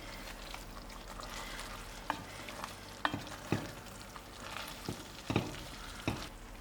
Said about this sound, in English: I add in my leafy sem and give it a good stir.